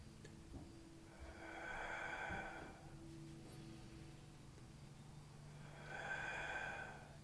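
Slow, soft breaths during a beginner mat Pilates workout, two long airy exhales about four seconds apart, close and quiet over a low steady hum, with no talking.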